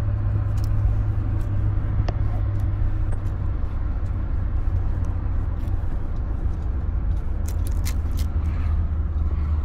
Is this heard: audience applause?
no